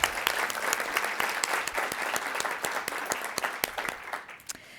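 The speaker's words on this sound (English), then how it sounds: "A round of applause for the members." An audience at an annual association meeting gives a round of applause for the members, a sustained patter of many hands clapping at moderate distance that thins out toward the end.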